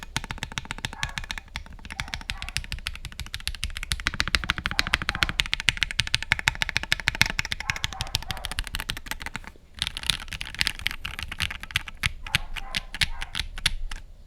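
Rapid, even keystrokes clack on a Freebird60 screw-less gasket-mount mechanical keyboard, a dense run of crisp clicks with a brief pause near the ten-second mark before typing resumes, close and clear with no talking.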